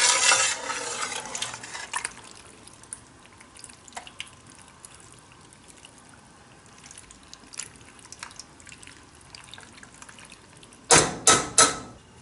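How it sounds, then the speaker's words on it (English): Mac and cheese being stirred over very low heat until the cheese melts, soft wet scraping and gentle stirring sounds, faint and close, with a few sharper clatters near the end. "just stir it until it all melts together"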